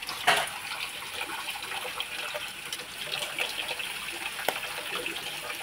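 Water gushes from an opened tap in a steady, fairly faint stream with small splashes.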